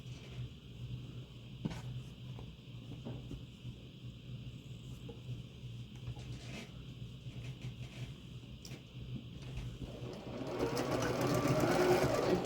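A home sewing machine stitches quilt pieces together, and it is overdue for a cleaning. Its low, steady mechanical hum runs close and continuous, a few light clicks sit on top, and the sound grows louder and busier toward the end.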